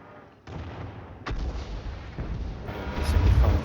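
In an online tank battle game, artillery fires in a series of booming shots, heavy low rumbling blasts building in loudness with rolling reverberation between them.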